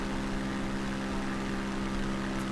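A propeller airplane engine in Microsoft Flight Simulator 2020 drones steadily with a low, even hum and buzz, constant and fairly loud throughout, with no talking.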